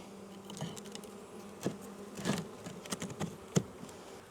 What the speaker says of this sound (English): Here's all the bees looking for their home.